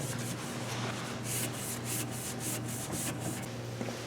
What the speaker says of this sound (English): The frame is dry with the metal etch primer. I'm just scuffing it with some 80